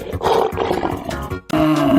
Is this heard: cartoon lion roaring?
yes